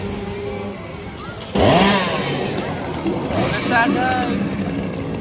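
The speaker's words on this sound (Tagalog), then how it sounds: "May chainsaw guys, ayan o." A revving chainsaw engine at a Universal Studios Japan Halloween attraction bursts in loudly and whines up and down, with excited voices talking over it.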